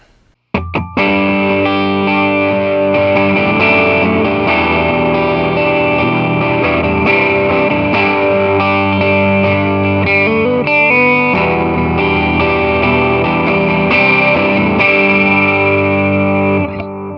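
Electric guitar through a Tube Screamer overdrive pedal into a Peavey Classic 30 tube amp, crunchy tone playing sustained chords and riffs, loud and continuous, with no talking.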